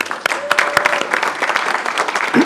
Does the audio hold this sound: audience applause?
yes